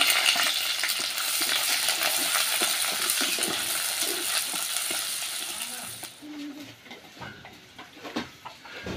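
Onions fry in hot oil with whole spices such as cinnamon stick for a home lunch, a steady loud sizzle with scraping stirs, easing off after about six seconds into quieter clinks and light crackle.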